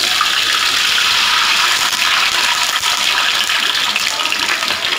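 Water pours steadily and loudly in a continuous close gush while mushrooms are being cooked, with no pauses or talk over it.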